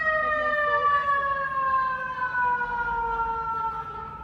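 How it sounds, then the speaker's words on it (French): A fire truck siren wails continuously on a New York street, its sustained tones sliding slowly downward as the truck passes, loud and steady throughout with faint traffic rumble underneath. "Bon, les pompiers viennent nous chercher."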